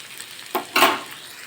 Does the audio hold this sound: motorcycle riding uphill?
no